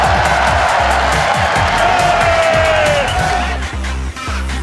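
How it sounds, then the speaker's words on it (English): A large crowd at the League of Legends EU LCS arena in London cheers and roars continuously and loudly during a 2014 esports match, a dense wall of voices that eases slightly toward the end. "The crowd is obviously amazing."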